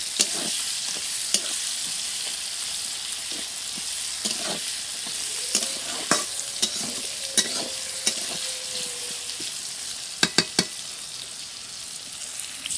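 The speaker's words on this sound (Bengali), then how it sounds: "পেঁয়াজটা একটু লাল লাল করে ভাজবো" Onions frying in a pan until reddish, a bright continuous sizzle with scattered soft taps and a few quick clicks of a spatula stirring, heard alone and close.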